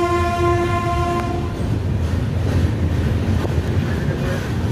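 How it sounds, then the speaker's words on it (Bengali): A train pulls out of Medinipur station in the dark, its horn sounding loud and sustained at the start over a steady rumble of wheels and carriages that continues throughout. "ট্রেন ছেড়ে দিল আমাদের মেদিনীপুর থেকে"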